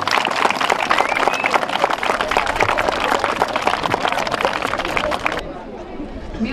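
Audience at a school year-end ceremony for 2018/19 breaks into dense, sustained applause, many hands clapping loudly and steadily before thinning out abruptly near the end.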